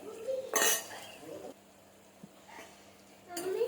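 Potatoes are stirred in a pan, giving a few separate scraping and clinking bursts of a utensil against the metal, close by with quiet pauses between them.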